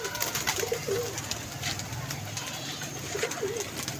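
Soft coos from a Kasuria Golden pigeon repeat twice, low and rounded, over a steady background hiss with faint chirps; no one speaks.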